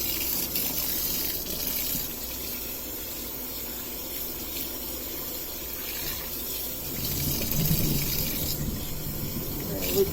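Running water rinsing freshly dyed wool in a sink, a steady broadband splashing rush that continues throughout and swells louder near the end.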